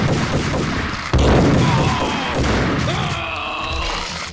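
Dense gunfire and thuds from a shooter video game, with a heavy burst of shots and booms in the middle layered over a busy, noisy game mix; no voices clearly heard.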